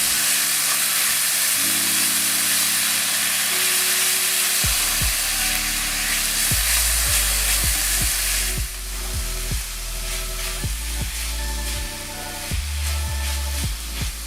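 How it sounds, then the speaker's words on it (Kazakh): Paprika and dried garlic fry in a pan with a constant close hiss and sizzle that carries through the whole stretch, with no talking. "Барлығын жақсылап араластырып, ақырындап қуыра бастаймыз."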